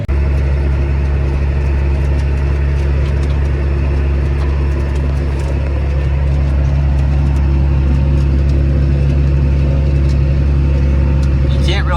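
Steady, loud low rumble of an 8100 tractor engine running continuously while spreading on farm fields, a constant drone throughout with a faint voice underneath.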